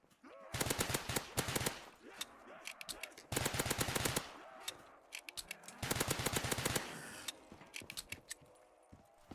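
Pistol gunfire in a zombie video game, loud rapid bursts of sharp shots in three clusters separated by short mechanical clicks and reload rattles.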